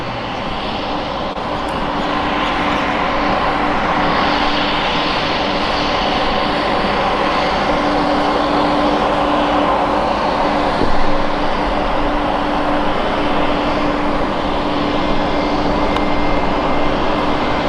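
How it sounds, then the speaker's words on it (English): Jetstar Airbus A320 airliner at Brisbane Airport, a loud continuous engine roar and broadband rumble that holds steady throughout, with a faint hum underneath and no talking. "Now we've got a Jetstar A320."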